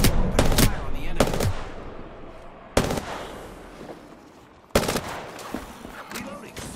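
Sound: gunfire in Apex Legends video game

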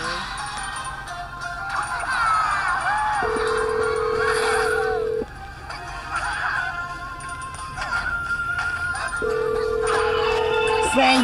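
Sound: phone ringtone

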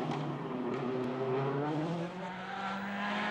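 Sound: rally car driving on a slippery stage

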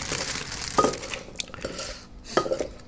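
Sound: stirring papaya salad ingredients together

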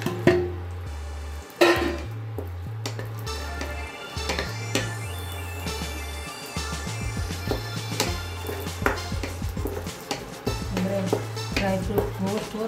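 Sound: dry fruits frying in ghee in a kadai

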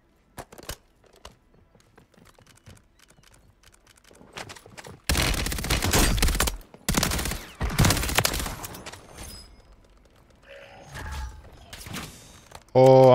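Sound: sniper gunfire in Call of Duty Warzone video game

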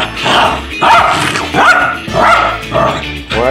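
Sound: dogs barking

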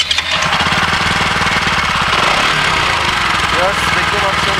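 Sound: Keeway RKR 165 motorcycle engine after self start

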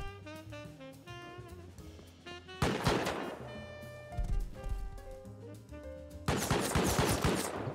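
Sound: base turrets firing in video game

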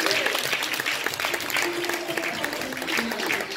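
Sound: congregation hand clap of praise

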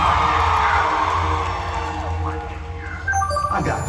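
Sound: concert crowd cheering and whooping

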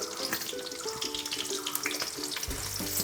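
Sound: chopped onions added to hot pan for mutton curry

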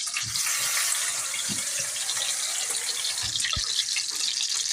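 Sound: water running while washing bulgur

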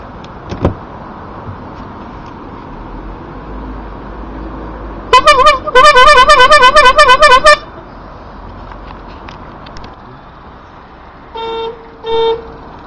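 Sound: car horn honking on an old Volkswagen Beetle

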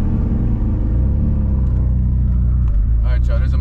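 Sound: car engine accelerating through gear shift

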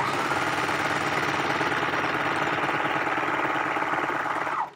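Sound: serger sewing machine stitching

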